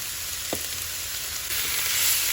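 Artichoke pieces seasoned with garlic powder and pepper frying in a hot pan, a loud, steady close sizzle with a brief clunk as food drops in and the hiss growing slightly stronger near the end.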